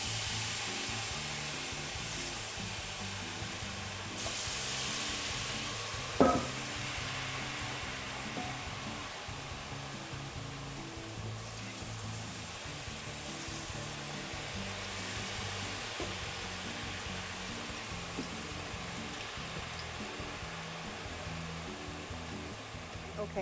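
Vegetable tempura fries in a pot of hot oil with a continuous close sizzling hiss. A single sharp knock sounds partway through, and soft voices are present underneath.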